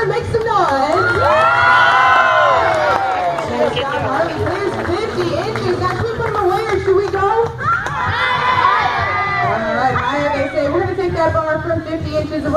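A large zoo dog show crowd cheers, shouts and whoops loudly in two big surges, with children's voices among the noise and an announcer talking over the crowd.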